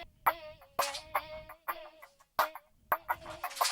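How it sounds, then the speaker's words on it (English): Choppy bird-like squawks and clucks processed with a sweeping filter effect in the Koala FX app, the tone brightening and dulling across irregular bursts. "Got some filter."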